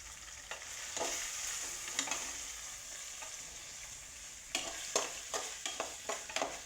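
Onions sizzle steadily in a pan for egg rice, a soft frying hiss broken by a few light stirring scrapes that quicken into a series of sharp clicks toward the end.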